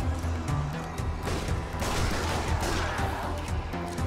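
Dense, loud gunfire from the zombie shooter game Zombie Army Trilogy, with shots overlapping into a steady barrage that fills the whole stretch.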